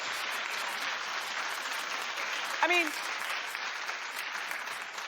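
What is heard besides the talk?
studio audience clapping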